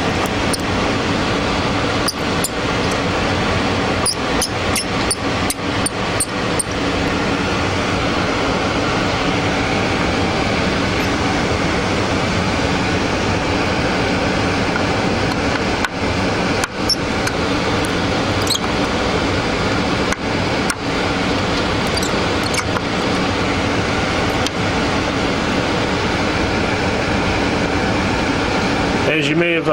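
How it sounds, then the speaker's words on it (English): Steady broadband rush of air moving through clean room ventilation during a hard drive head swap, a constant loud hiss filling the background with scattered small clicks and handling noises on top. "the noise you hear in the background is actually the air rushing through our clean room environment here"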